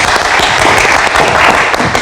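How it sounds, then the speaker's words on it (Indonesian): Studio audience applause on an Indonesian late-night talk show, loud, dense clapping from a close crowd welcoming a guest, steady throughout. "Kasih tepuk tangan dong, Bung Haryo."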